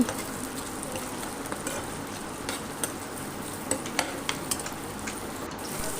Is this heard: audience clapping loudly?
no